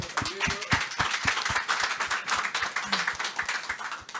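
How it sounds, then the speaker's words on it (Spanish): A conference audience claps in a loose, moderately loud round of applause, individual hand claps distinct at first and then thinning toward the end, with a brief murmur of voices underneath. "¿Sabés que se merecen un aplauso antes?"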